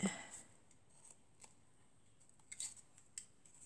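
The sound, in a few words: scissors cutting crepe paper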